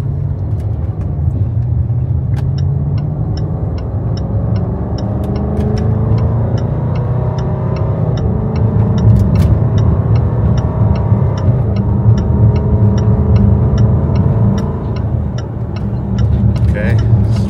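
A Range Rover pulls away while towing an empty trailer, its engine droning loudly and steadily through several rising gear sweeps, with a rhythmic ticking over the top and a person talking throughout.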